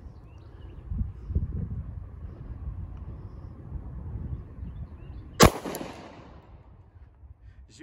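A single sharp crack from a Gen 4 Glock 27 pistol, fired one-handed, stands out against steady outdoor background rumble and fades with a short echo.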